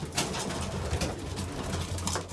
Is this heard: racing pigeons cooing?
yes